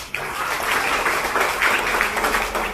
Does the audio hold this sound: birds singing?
no